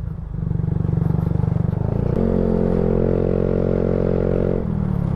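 Engine of a Yamaha Mio Sporty scooter while riding, a steady buzzing drone that shifts up to a higher, even pitch midway and then drops back, close and constant throughout.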